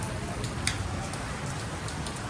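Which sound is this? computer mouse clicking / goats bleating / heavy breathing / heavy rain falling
heavy rain falling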